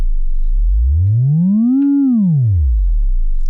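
A Therevox ET-5 oscillator on its 32-foot setting plays a pure, low sine tone that glides smoothly upward, peaks and slides back down, loud and alone.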